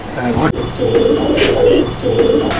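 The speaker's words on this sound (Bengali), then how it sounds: "এই যে দেখছেন এইখানে সব পায়রা রয়েছে" Pigeons coo in a rooftop loft, several overlapping low rolling calls repeating close by, with a voice speaking over them.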